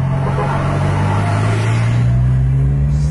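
A Mercedes-Benz 1836 sleeper bus engine revs hard at full throttle, a loud, close diesel roar with a steady low drone that climbs slightly in pitch over a few seconds.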